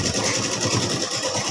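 A sewing machine runs continuously as it stitches a halter neck, a steady close whirring buzz with a rapid mechanical pulse and no pauses.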